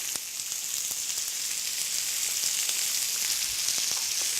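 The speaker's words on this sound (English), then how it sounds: "into the skillet, go our onions" Onions and garlic puree frying in a skillet, giving a steady, close hiss and crackle of sizzling with faint scattered pops throughout, no voices.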